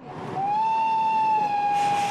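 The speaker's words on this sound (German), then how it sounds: "Und dann kommt endlich das Zugwunder, das Ende des 19. Jahrhunderts das Reisen revolutionierte." Orient Express luxury train arriving at a Berlin station, announced by a long, steady whistle that starts abruptly and holds loud and clear for nearly two seconds over faint rumbling.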